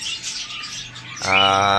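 Domestic and foreign-breed pigeons and other caged birds chirp and call continuously at close range, with a louder sustained call rising in the last half second.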